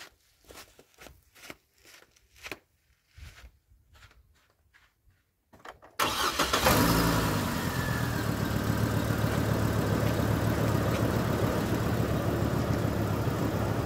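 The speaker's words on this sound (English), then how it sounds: "We'll turn the car on," A car is turned on after a few quiet knocks and clicks; the engine catches abruptly and settles into a loud, steady idle that continues close by to the end.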